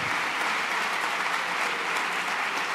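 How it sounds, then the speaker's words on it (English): A school auditorium audience at a high school organ and tissue donation awareness program claps steadily for the presenters, a dense, even wash of applause with no voices. "Round of applause for all of our presenters, Stovers,"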